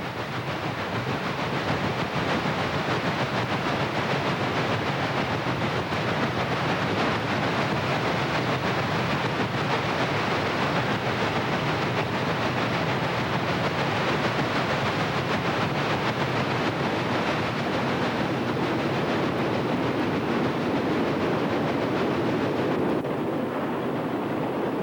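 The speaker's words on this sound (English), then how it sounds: "the pusher has been dropped off as the train continues eastbound at milepost 75" A Chesapeake and Ohio steam locomotive hauls an eastbound train past milepost 75, a continuous loud rumble and hiss of rolling cars and exhaust holding steady throughout without talk.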